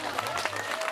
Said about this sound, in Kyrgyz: Маанайыңыздар жакшы болсо бир кол чаап коюңуздар.